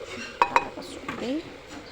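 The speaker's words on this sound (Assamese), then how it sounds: "এয়া শুকান মাছ দিছোঁ। এতিয়া অলপ টাইম ভাজি লওঁ" Dried fish fries in a pan with ginger and garlic paste as a utensil stirs it, giving two sharp metallic clinks of a spoon on the pan followed by soft scraping and sizzle.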